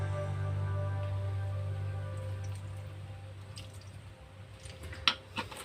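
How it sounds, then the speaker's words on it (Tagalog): A small splash of soy sauce poured into a cooking pan gives soft, wet dripping and squishing over a low steady hum, ending in a couple of brief sharper drips. "So lagyan natin ng soy sauce konti lang."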